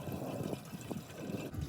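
Gasoline pours from a vehicle's fuel tank into a coffee can, a steady low liquid rush and trickle running throughout, fairly close, with no talking.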